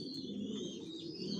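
A red checker racing pigeon hen of a Janssen line, sitting on eggs in a loft, gives a soft, low, continuous coo, faint and close, with a thin background hum and distant chirps.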